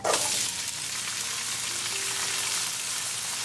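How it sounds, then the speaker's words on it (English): Chopped onion frying in hot olive oil with cumin and mustard seeds, opening with a sharp burst as it hits the pan and then settling into a dense, even sizzle that runs steadily throughout, no talking. "And we're going to cook our onion until they turn nice and brown."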